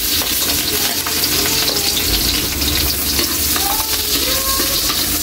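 Garlic sautéing in hot cooking oil, a dense loud crackling sizzle that holds steady throughout with faint clinks of stirring, close up and with no talking.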